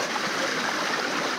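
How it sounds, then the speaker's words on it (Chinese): Mountain spring water pours steadily from a tap that is never shut off in a village, a continuous close rushing and splashing with no pauses. "这里有一个永远不会关的水龙头。"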